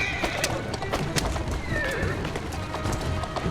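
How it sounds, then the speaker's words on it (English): A horse in the Assassin's Creed Syndicate video game whinnies over steady hoof clip-clops, with sharp clattering hits scattered through the few seconds. "Who's a good horse? You are."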